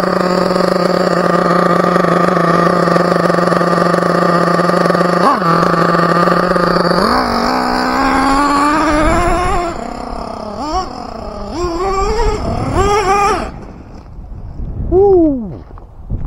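Team Associated MGT nitro RC monster truck engine running loud and close, a steady high buzz that climbs and wavers through revving bursts before sputtering and dying away at the end.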